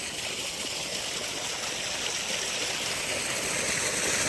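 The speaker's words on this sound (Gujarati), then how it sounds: "પાણી ચાલુ કર્યું છે" Water runs from a turned-on tap in a steady, unbroken rush that stays close and fairly loud for the whole stretch, with no pauses.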